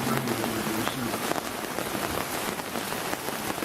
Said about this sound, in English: I actually take all of this rain as a good omen.